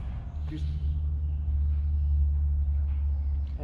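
Apex Reeper 4 street-legal four-wheel-drive off-road utility vehicle driving, a steady low engine rumble close by throughout with faint rattles on top.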